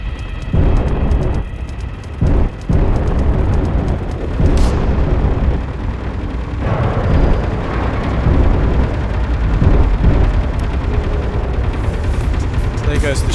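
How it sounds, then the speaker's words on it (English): In the Space Engineers game, an enemy ship fires its weapons, producing loud, continuous rumbling explosions and crackling impacts with a few sharp bursts near the start. The barrage stays dense and heavy throughout, with no clear talk. "Oh no, he is still firing on us."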